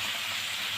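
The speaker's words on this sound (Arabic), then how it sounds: "اي حبايبي تتشوح اهي" Liver and gizzards with vegetables sautéing in a pan give off a steady, bright sizzle, an even frying hiss held for under a second with no talking.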